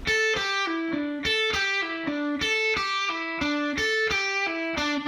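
Distorted electric guitar repeating a short lick of an upstroke and two downstrokes with a pull-off, crisp picked notes in a steady, evenly timed rhythm, played alone and clear.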